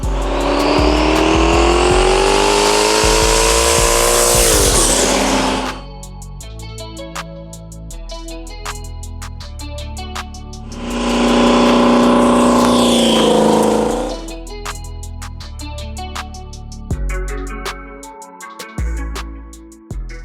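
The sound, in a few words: turbo Trans Am with 388 cubic inch LS engine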